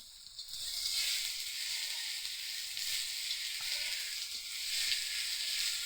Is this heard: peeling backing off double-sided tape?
no